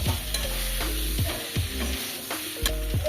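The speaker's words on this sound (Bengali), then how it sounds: "এইবার ভেজে রাখা সব সবজি ডিম আলুগুলো একসাথে দিয়ে দিলাম।" Fried vegetables, duck eggs and potatoes tipped into a cooked-down masala for a cauliflower egg curry and stirred, with repeated spatula scrapes over a continuous close sizzle.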